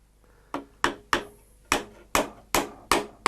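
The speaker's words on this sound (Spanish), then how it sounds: "Le meto con el martillo de hierro." Nine sharp blows from an iron hammer strike wood at a fairly even pace, each a crisp knock with a short ringing decay, close up, while building a wooden hay rake without nails or screws.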